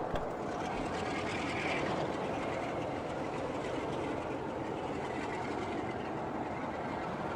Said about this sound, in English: As you can hear, the engine revs up a bit.